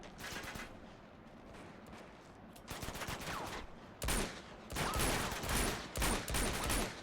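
Gunfire in the Uncharted 2: Among Thieves video game, bursts of rapid automatic shots and scattered rifle cracks, sparse at first and then denser and louder toward the end, with no voices.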